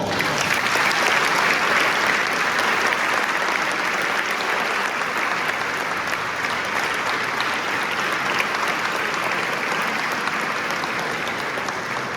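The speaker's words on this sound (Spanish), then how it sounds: "Un fuerte aplauso a todos." A large crowd at a choral concert applauds steadily and loudly for the whole stretch, a dense unbroken wash of clapping with no pauses.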